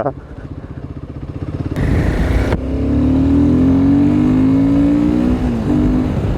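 Royal Enfield Himalayan 450 motorcycle pulling hard in third gear, engine pulsing then rising into a loud, sustained climbing drone with a gear change, close up, with wind rush and no clear talk.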